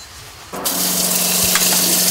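Hot water from a brand-new gas-heated hose on a hardtop camper suddenly gushes on after a quiet start, a loud steady rushing stream that continues without pause to the end.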